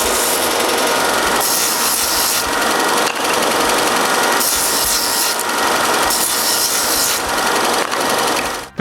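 Ends of wooden dominos being rounded by hand, a loud, close abrasive rasping in repeated long strokes with short breaks between them, and no speech.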